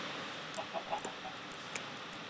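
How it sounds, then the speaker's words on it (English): Minecraft chickens clucking in the video game, faint scattered short clucks over a soft background hiss. "I just heard chickens as I pulled a chicken out of my inventory"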